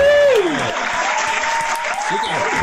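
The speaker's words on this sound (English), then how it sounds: "Double applause for the Iron Sheik" A studio audience claps for wrestling legend the Iron Sheik, with steady applause running under a host's voice and a whooping cheer at the start.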